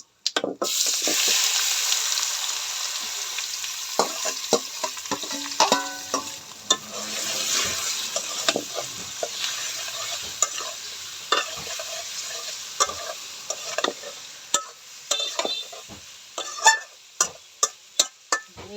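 Chicken pieces fry with cumin in a pot, a steady sizzle under repeated sharp scrapes and clinks of a spoon stirring, close and fairly loud, with no talk.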